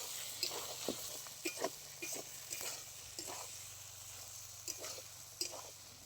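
Whole spices, dried chili, cumin, coriander and mustard paste sizzling in fish oil in a pan with onion stalks, potato and eggplant, a steady sizzle broken by repeated stirring scrapes.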